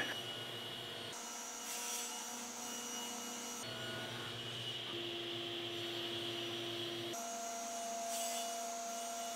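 A saw rips a strip off the edge of a wooden wine hutch top. A faint, steady machine whine shifts in pitch and texture several times as the cut runs, with no talking.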